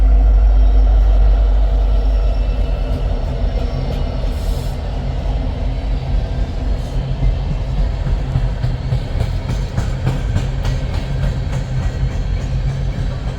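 A double empty freight train rolls north, a steady loud rumble of wheels and cars sustained throughout with rhythmic clanks and rattles, close and continuous.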